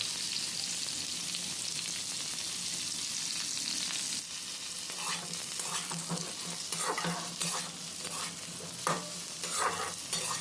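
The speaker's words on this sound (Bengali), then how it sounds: "এইভাবে নাড়াচাড়া করে হালকা ভেজে নিতে হবে" Steamed cauliflower being stirred and fried in a wok, an even sizzle that turns busier halfway through as repeated spatula scrapes and taps start up close by.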